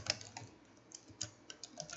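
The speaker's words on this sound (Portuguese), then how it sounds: "Então vamos digitar aqui" Faint, quick taps on a computer keyboard in an irregular patter of keystrokes, close but quiet, with no voices.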